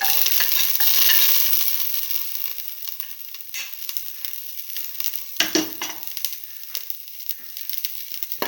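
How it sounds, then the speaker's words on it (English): Shallots sizzling in a frying pan, a bright crackling hiss that swells at first and then settles, with a few clattering stirs and bumps up close, no talk. "Now put in the shallots."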